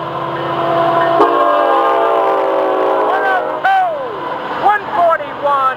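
FEC 101 freight train on the Florida East Coast line, a long hood forward 704 leading motor racks, rolling past close and loud with a steady rumble and horn-like tones, while someone talks over it.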